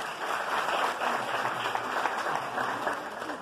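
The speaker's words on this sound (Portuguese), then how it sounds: "por favor, palmas para o Eduardo" An audience at a talk applauds Eduardo with steady, dense clapping that fills the whole stretch at even strength, with no voices rising above it.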